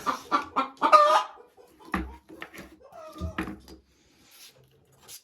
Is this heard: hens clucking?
yes